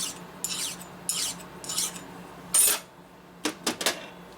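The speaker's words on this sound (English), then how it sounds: "Take the dowel file, make sure there's no burr." Dowel file rasping a burr from a part of a 1972 Ironhead Sportster 1000cc engine, a series of short, close scraping strokes with brief pauses between them.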